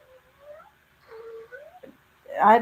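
A newly adopted pet cat makes a few short, rising and falling meowing calls nearby during a home trivia video call, followed by a louder, harsher burst at the end.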